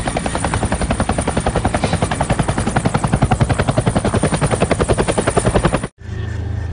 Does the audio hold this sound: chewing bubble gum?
no